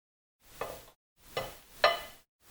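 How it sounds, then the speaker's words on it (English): Banana pancake batter frying in a pan, giving three close bursts of sizzling and crackling that rise and fade, with brief quiet gaps between them. "the banana in there makes it sound so much more sizzly and crackly"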